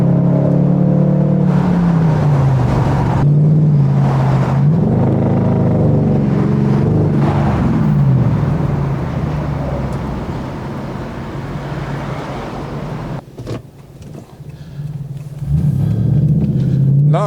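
Lexus SC 430 driving through a tunnel, its engine droning steadily with rising and falling revs that echo off the walls, loud and continuous, easing off briefly before surging again near the end.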